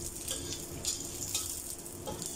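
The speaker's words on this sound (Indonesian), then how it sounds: "Setelah jahenya harum, kemudian kita tumis bawang putihnya juga" Garlic sautéing with ginger in a hot pan gives off a continuous soft sizzle with faint crackles and light stirring, heard close and alone.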